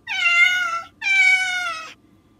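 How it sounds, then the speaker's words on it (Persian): A cat gives two clear, close meows in quick succession, each about a second long with a bright, tonal cry, over a faint low background hum and no talking. "یه پیشی هست"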